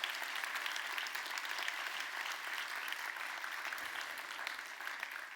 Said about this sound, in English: This is your applause.